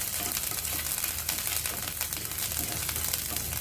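Ginger sizzling steadily in hot oil with popped mustard seeds and cumin for karela kadhi, a dense, even frying crackle that stays close and loud throughout, with no talking.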